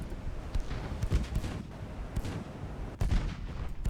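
Warship guns fire repeatedly in a naval battle in Ultimate Admiral: Dreadnoughts, with broad booming blasts and a rumbling roar across the engagement, the sharpest heavy shots landing about a second apart near the start and again toward the end.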